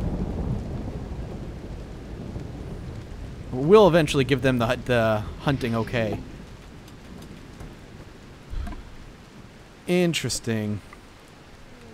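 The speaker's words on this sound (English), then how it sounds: "Here comes the rain." Steady rain with low thunder rumbles in the video game RimWorld plays as a constant backdrop, while someone talks over it in several bursts.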